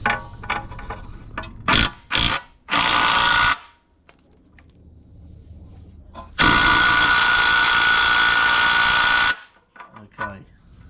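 A ratchet and socket tighten a fastener during rear wheel bearing removal on a VY ute, giving short bursts of close, loud, harsh mechanical rasping separated by quieter gaps, ending in one long sustained burst.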